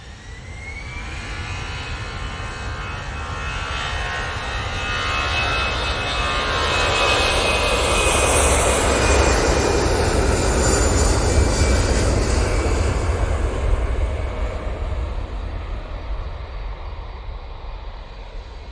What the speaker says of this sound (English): Well, Easyjet's going